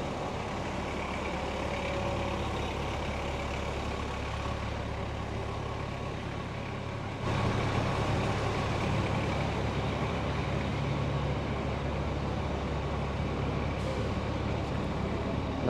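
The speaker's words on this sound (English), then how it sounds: "Traffic coming here." Steady city street traffic on Fifth Avenue in New York, with trucks and buses rumbling past and engines idling, a continuous broadband roar that swells louder halfway through and carries on to the end.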